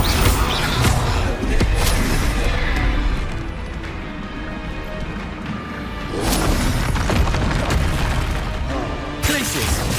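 Hogwarts Legacy spell casting in combat, with booming bursts and crashing impacts layered densely over continuous game noise, loudest at the start and again in later surges, while a voice calls out spell names throughout.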